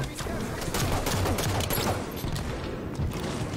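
Sustained gunfire from Halo 5: Guardians multiplayer, dense overlapping shots and bursts filling the whole stretch at steady loudness, with no talk over it.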